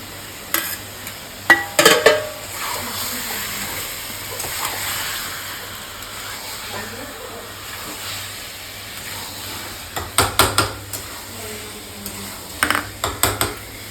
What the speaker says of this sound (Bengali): ডিমও দিয়ে দিচ্ছি